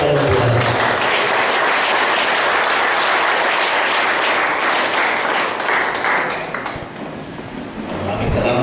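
Loud, dense applause from a congregation fills a seminary consecration and uniforming service, sustained for several seconds before briefly dipping and swelling again.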